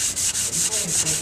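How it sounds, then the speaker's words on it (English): A sanding block rubs back and forth across the face of a flat wood board for clock making, giving a steady, close scratchy hiss in regular strokes, about six passes with no talking. "sand the face of that second board"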